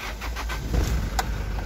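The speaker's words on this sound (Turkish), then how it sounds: "Arabamızı çalıştıralım şöyle" A 2012 Hyundai H100 van with about 122,000 km on it cranks and fires up, a short low rumbling start that settles into a steady idle close by, with no talking.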